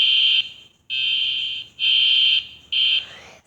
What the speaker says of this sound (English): I'm pretty sure this is the USA EAS alarm, just like high-pitched.